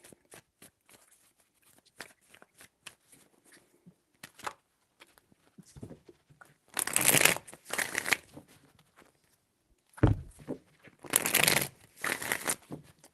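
Tarot cards are shuffled by hand in several bursts, crisp riffling flutters close up separated by lighter taps and pauses, with no talking.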